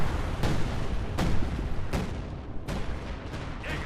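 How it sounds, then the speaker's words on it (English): Howitzer bombardment in the strategy game Company of Heroes 2: four heavy booming impacts land at roughly even intervals, loud and close, each trailing into rumbling noise, with no talk. "Depolster calling down a howitzer bombardment"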